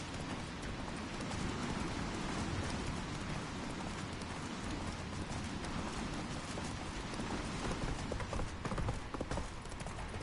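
Roach, a horse in The Witcher 3 video game, gallops in a dense, steady clatter of hooves over a rushing, noisy background that runs unbroken for the whole stretch.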